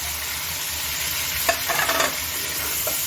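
Medium onions and chicken fry in a pan with a constant sizzle, broken by a few scraping stirs, close and loud with no speech.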